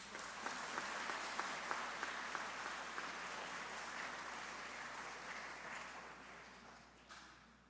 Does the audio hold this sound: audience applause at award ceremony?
yes